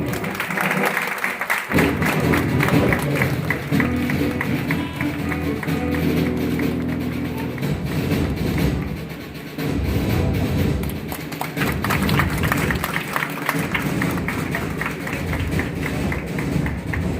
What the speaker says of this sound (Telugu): తర్వాత చప్పట్లు కొట్టుకుంటాం.